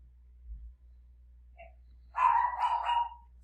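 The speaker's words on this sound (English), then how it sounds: "So, you get to hear my dog bark again." A dog barks in a short burst of several rapid yaps, fairly close and loud, after a faint distant bark-like sound and low room hum in an otherwise quiet indoor space.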